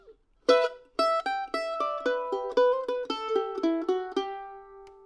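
Solo mandolin plays a short phrase of the tune "Hangin' Dog", bright picked notes and two-note double stops, each attack ringing briefly before the next, clear and close.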